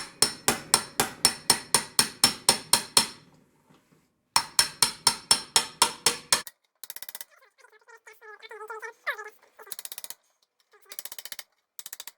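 Repeated sharp metallic hammer blows on a manual impact driver, loosening stuck screws on a 1973 Skiroule RT 440 snowmobile, in quick regular bursts, pausing between sets, followed by lighter clinks and rattles of metal parts.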